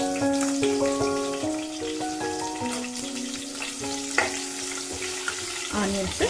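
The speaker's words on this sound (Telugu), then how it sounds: "ఆనియన్స్ కొంచెం కలర్ చేంజ్ అయ్యే వరకు వేయించుకున్నాము" Sliced onion and two green chillies frying in hot oil in a pan, a continuous close sizzle with crackling pops and occasional stirring clicks, under a faint background melody.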